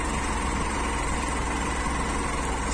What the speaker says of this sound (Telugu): యాక్చువల్గా బైక్ చాలా కష్టం మీద వెళ్తుంది